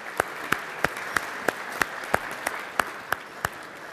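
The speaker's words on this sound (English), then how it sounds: "Let's give a round of applause to the color guard." A crowd at Portsmouth, Virginia's 2015 State of the City address applauds the Coast Guard color guard. One close, loud clapper beats a steady, regular rhythm over a softer wash of crowd clapping.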